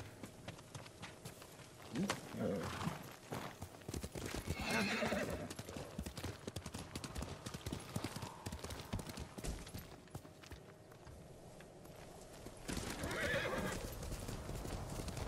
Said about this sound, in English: How dare you all upset my horse right now